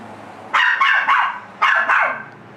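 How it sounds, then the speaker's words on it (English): A puppy barks loudly and close by, several sharp yips in two quick bursts, with a faint room background between them. "that's why my puppy is barking"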